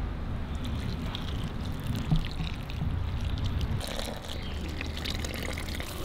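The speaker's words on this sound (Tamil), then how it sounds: "இந்த தண்ணியும் இது கூடவே சேர்த்துக்கலாம்." Yeast dissolved in water is poured into maida flour for pizza dough, a steady close liquid pour and trickle with faint kitchen clatter, no talking.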